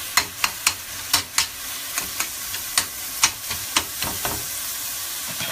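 Cauliflower rice and meat sauce cook in a pan over high heat, sizzling steadily with frequent sharp pops and crackles at an irregular pace, close by and with no talking.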